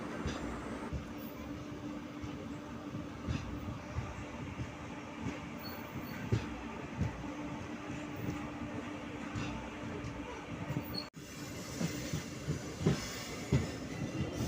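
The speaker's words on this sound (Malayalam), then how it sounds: "എറണാകുളം ജംഗ്ഷനിൽ ഇങ്ങനെ നമ്മുടെ വണ്ടി ഇങ്ങനെ പതിയെ പോയിക്കൊണ്ടിരിക്കുകയാണ്" A passenger train rolls slowly toward Ernakulam Junction, Kerala, with a steady low rumble and an occasional clack of wheels over the rails throughout.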